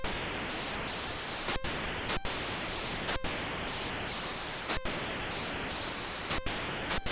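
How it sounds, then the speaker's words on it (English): Steady loud white noise from a synth noise generator hisses continuously, broken by brief sharp dropouts at irregular intervals, with no voices. "that was just using the noise generator up here"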